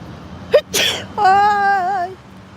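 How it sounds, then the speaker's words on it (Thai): A person sneezes once outdoors beside a road, a sharp close burst followed by a drawn-out tonal whimper-like sound, over faint background noise. "จามค่ะทุกคน"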